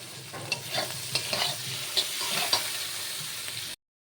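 Whole bay leaf, cinnamon, cloves and cardamom frying in a pan with tomato and ginger paste, stirred with a utensil; steady close sizzle with several sharp scraping knocks, stopping abruptly near the end.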